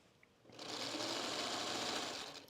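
A sewing machine stitches along the bottom seam of a pillowcase, starting after a brief quiet and then running as a steady close whir for about two seconds before slowing.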